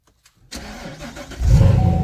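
A Chevrolet Corvette C7 engine cranks and catches after a near-silent pause, then roars into a loud, steady, close idle.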